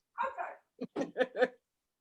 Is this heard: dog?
yes